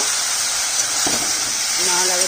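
Steady sizzling of bottle gourd greens and vegetables frying in a hot pan, a bright continuous hiss with a brief clink and a few faint voice sounds.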